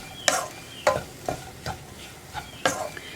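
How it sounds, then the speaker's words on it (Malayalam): Cauliflower thoran with salt being stirred in a hot pan, a series of sharp scraping stirs in an uneven rhythm over a soft sizzle, close and clear with no talking. "ഇനി ഉപ്പും കൂടി ചേർത്ത് നന്നായിട്ടൊന്ന് ഇളക്കിയെടുക്കുക."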